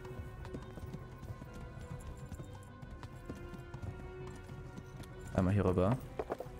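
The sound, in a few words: horse hooves clip-clopping while riding in video game Kingdom Come: Deliverance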